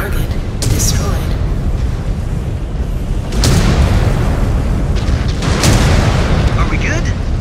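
Booming explosions of an enemy robot in MechWarrior 5: Clans, several loud blasts with crackling bursts over a dense, continuous battle rumble, with a voice talking over them.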